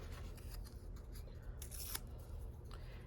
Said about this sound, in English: rip little pieces